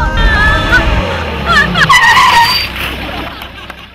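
A car skids to a stop, tires squealing loudly in rising and falling screeches for about two seconds over engine rumble, then fading out.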